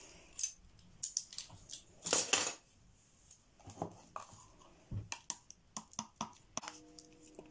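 Metal measuring spoons clink and jangle while muffins are made, giving a series of light, sharp metallic taps and rattles close by, with one longer rattling burst early on and no voice.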